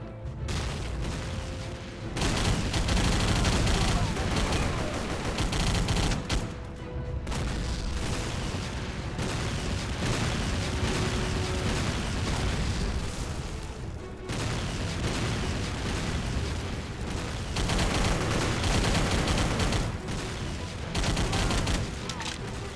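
Shooter video game combat with dense, continuous gunfire and booming explosions, loud and relentless throughout with brief dips between bursts.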